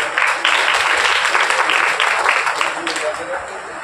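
An audience applauds at a Jain community committee event in India, a dense, loud wash of clapping that carries steadily from start to finish with no clear voices over it.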